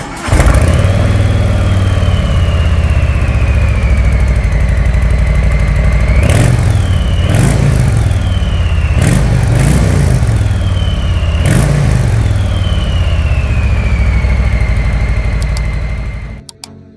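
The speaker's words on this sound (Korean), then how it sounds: "자, 이제 할리 고동감 있는 엔진 소리 한번 들어보겠습니다." A 2020 Harley-Davidson Street Bob 107 motorcycle idles with a deep, loud, steady rumble close by, then its engine is revved in four sharp throttle blips, each climbing and dropping back to idle, before cutting off at the end.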